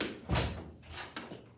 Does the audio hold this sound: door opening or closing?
yes